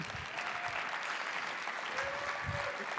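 An audience at a real estate investing seminar applauds with steady, sustained clapping from many hands. A voice murmurs faintly underneath.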